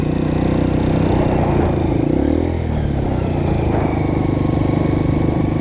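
A Honda CRF 230 dirt bike with a failing clutch runs steadily and loudly throughout, its engine droning with a rough, clattering edge and a brief dip and surge in pitch midway.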